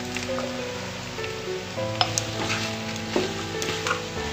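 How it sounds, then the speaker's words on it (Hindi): Spice masala of turmeric, coriander powder, garam masala and Kashmiri red chilli being stirred and roasted in a pan, a steady soft sizzle with scraping and occasional light knocks of the spoon, close and continuous. "और अब इसे हम अच्छे से भूनेंगे।"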